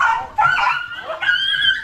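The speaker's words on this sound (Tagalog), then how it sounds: "ang mga aso ay nag-aagakan dito kasi baka mga gutom na" Hungry dogs squabbling with close, loud overlapping yips, whines and whimpering cries that continue without a break.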